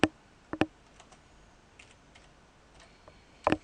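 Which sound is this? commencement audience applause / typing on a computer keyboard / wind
typing on a computer keyboard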